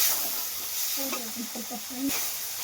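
Tomatoes fry in hot oil with ginger for a sweet corn and potato curry, giving a steady close sizzle and hiss while a voice speaks briefly over it.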